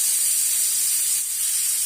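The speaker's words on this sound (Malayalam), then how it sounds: "എന്നിട്ട് പ്രഷർ വരുമ്പോൾ വെയിറ്റ് ഇട്ട് കൊടുക്കണം. എന്നിട്ട് 1 വിസിൽ." A pressure cooker's whistle weight vents steam in a continuous, steady hiss, loud and close, holding level with no pauses and no voices.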